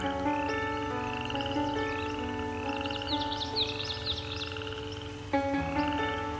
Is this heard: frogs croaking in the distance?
yes